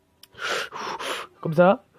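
A voice imitates an animatronic breathing at a door in Five Nights at Freddy's 4, with several breathy gasping bursts and a voiced snort-like sound at the end, all close to the mic.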